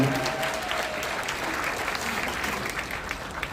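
Steady applause from an audience in a concert hall after a chamber ensemble performance, a dense patter of many hands clapping continuously throughout, fairly loud and even.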